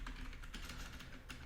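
Quick, soft keystrokes patter on a computer keyboard as code is typed, a short quiet burst of clicks with no voice.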